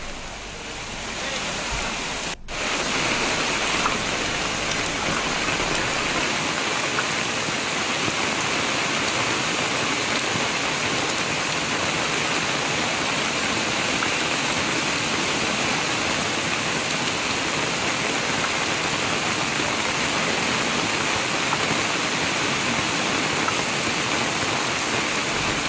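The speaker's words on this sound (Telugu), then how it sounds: "శ్రీనగర్ కాలనీలో వానలు దంచుకొడుతున్నాయి." Heavy monsoon rain pours down steadily over Srinagar Colony in Hyderabad, a dense, continuous roar of water that starts with a brief break and then holds at the same strong level throughout, with no voices.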